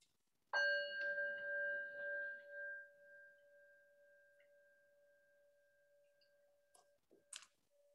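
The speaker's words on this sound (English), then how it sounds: "hopefully my settings are on so the bell will sound like a bell" A single meditation bell is struck once at the start of a mindfulness session, ringing with a clear sustained tone that slowly decays into quiet, followed near the end by a couple of faint small clicks.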